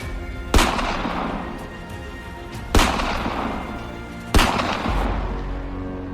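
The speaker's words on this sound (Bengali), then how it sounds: "সেপাইরা আবার একসঙ্গে বন্দুক ছুড়ল।" Three sharp rifle volleys ring out, as if soldiers fire together, each a loud crack followed by a rumbling decay, spaced a couple of seconds apart.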